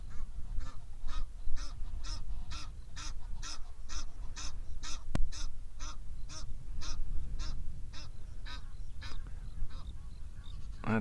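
Geese honking and quacking in a steady run of repeated calls through the whole stretch, fairly close, over a muddy outdoor waterside setting, with no talk.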